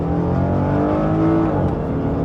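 An Acura NSX with an automatic transmission accelerates hard, its loud engine note rising steadily, then easing briefly as the gearbox shifts before pulling on.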